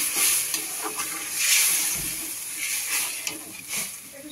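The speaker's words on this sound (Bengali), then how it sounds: "এই ডালটা ঢেলে দেবো" Dal poured into hot spiced tempering in a pot, hissing and sizzling as it is stirred, with scraping strokes and bursts of frying noise at moderate, close range.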